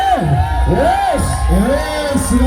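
A big crowd roars and cheers at a 2025 tug of war contest in Kerala, a steady loud wash of noise under a wavering, swooping voice that rises and falls over the top.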